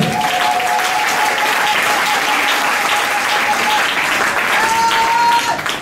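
A church congregation applauding the word of God, with steady, dense clapping from a large crowd that fills the space for several seconds, while a voice rises faintly above it.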